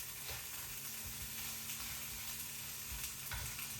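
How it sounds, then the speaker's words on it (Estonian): Rice frying in a pan until slightly crisp, a steady close sizzle with faint stirring scrapes throughout, no voices. "Mulle meeldib, kui see riis praeb natukene krõbedaks."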